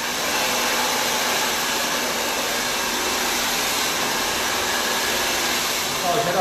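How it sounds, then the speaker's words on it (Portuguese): A hair dryer blows on hair after a haircut for a long bob, a steady loud whoosh held close and unbroken throughout, with a faint shift near the end. "Vai fazer um barulho agora, que o secador é um pouco barulhento."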